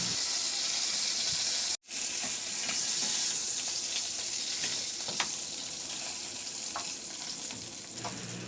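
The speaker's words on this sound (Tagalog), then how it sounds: "Sa disim na kawali, gisa ko na yung bawang." Garlic sautéing in a hot pan for a chicken dish makes a steady, close sizzle and fry hiss throughout, with one brief break and faint occasional pops and stirring scrapes.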